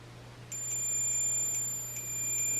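A multimeter's continuity tester sounds a high, steady electronic beep, held continuously for about two seconds against a low background hum, checking a part on a clothes dryer that won't heat.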